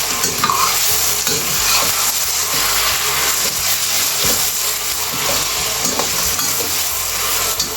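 Braised eggplant sizzles and fries loudly in a pan as the sauce reduces, with constant bubbling hiss and scraping stirs throughout.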